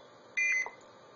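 An Arduino-built blue box sends a CCITT #4 KP1 signalling tone, a single short electronic beep of about a quarter second that is two-tone and bright, heard alone against faint background hiss.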